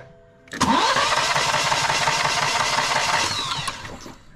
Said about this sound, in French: Ça fait un peu un bruit de démarreur qui tourne dans le vide.